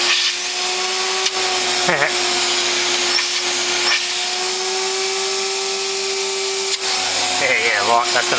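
A homemade vacuum motor runs steadily with strong suction, a loud continuous whine with a held tone throughout, briefly warbling as the airflow changes; a voice speaks faintly underneath in places.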